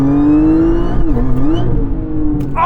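A supercharged car launches hard with traction control off, the engine's loud rising whine and roar holding steady and close, then dipping and climbing again as the wheels spin; no talk.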